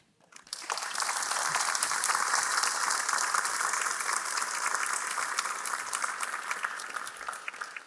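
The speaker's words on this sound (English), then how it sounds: "please join me in giving a big applause to thank our 2 distinguished guests" An audience at a Shaw Prize lecture bursts into applause for two distinguished guests, rising quickly from quiet into a full, steady wash of clapping that continues evenly and eases off slightly at the end.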